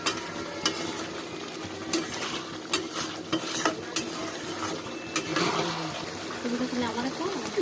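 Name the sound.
spices being fried and stirred for meat curry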